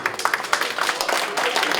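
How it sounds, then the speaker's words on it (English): Applause rises from an audience at a charity red ball gala, a dense spread of clapping hands sustained steadily throughout at moderate loudness, with no clear voice above it. "let's have a round of applause for Mr. Dr. Dede, Sam Dede"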